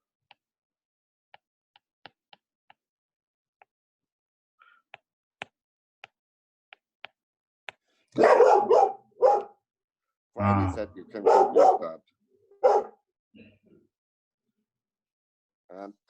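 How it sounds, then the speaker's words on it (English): A dog barks a few times in the background of a room, sharp loud bursts in the second half while a person talks over ticking clicks. "I have a dog speaking up in the background"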